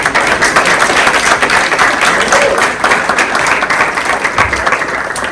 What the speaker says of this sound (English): you guys yourself deserve a round of applause